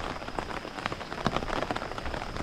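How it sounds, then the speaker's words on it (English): Steady rain pours down on Koh Phayam, Thailand, a dense, even patter of drops striking surfaces close by, continuous and unbroken, with no voices. "Even on a rainy day."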